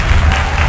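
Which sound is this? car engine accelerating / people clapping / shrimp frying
people clapping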